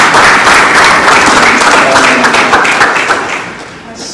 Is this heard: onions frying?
no